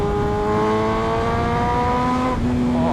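A BMW M1000RR motorcycle in sixth gear pulls steadily at low speed, its engine holding rising harmonic tones before a brief dip as throttle shifts, loud and close with wind rush, no talk.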